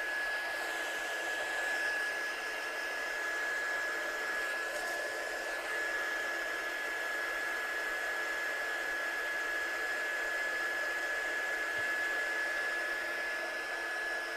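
Hair dryer blowing on a handmade card textured with salt and coffee, a constant loud airy roar with a steady high whine, running without pause throughout.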